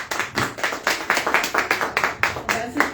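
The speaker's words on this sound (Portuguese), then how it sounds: "Aplauda o Senhor." A church congregation claps in praise during a worship service, a steady rhythmic beat of many hands, close and lively for a few seconds.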